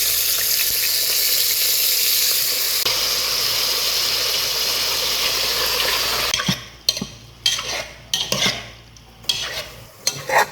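Squid adobo fries and sizzles in a pan with a loud, steady hiss for several seconds, then turns into bursts of stirring and scraping with short pauses between them.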